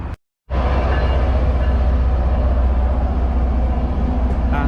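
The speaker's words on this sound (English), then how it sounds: "just arriving now, the service from here at Reedville along the Fairmount branch, heading towards South Station" A Fairmount branch commuter rail train arrives at Readville station in Boston, heard as a steady, loud rumble of wheels and engine that starts abruptly and holds continuously without a break.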